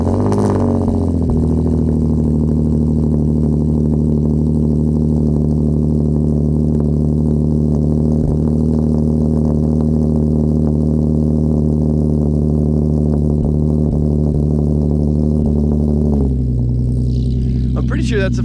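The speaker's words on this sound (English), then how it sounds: "that's the first time you guys have heard a cold start on this solo performance as well, and it sounds pretty good" A Hyundai Genesis Coupe with a solo performance exhaust idles steadily after a cold start, a loud low rumble that holds for most of the stretch before the revs settle lower near the end, with a voice talking over it.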